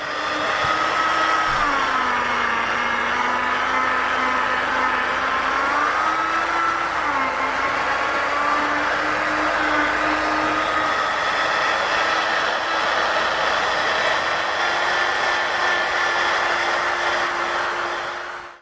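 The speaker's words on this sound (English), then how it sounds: "Drill polish the headlight on a medium RPM and apply medium pressure with a side-to-side action." A drill with a polishing pad buffs a plastic car headlight lens at medium speed, a loud steady motor whine whose pitch dips and rises as pressure shifts side to side, running without pause.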